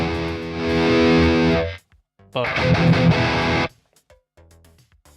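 Heavily distorted electric guitar through the Polychrome DSP amp plugin rings out in two sustained, saturated chords separated by a short gap, then fades to a quiet tail, loud and upfront with no talk over it.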